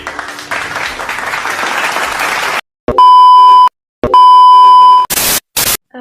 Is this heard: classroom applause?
yes